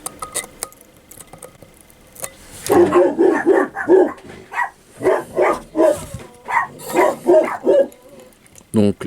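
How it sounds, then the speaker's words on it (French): Dogs bark repeatedly in a rapid, uneven series, moderately near, from the background of an indoor workshop where a Wotofo Serpent Mini 25 atomizer is being assembled. "les chiens ont décidé de niquer ma vidéo, comme vous pouvez l'entendre"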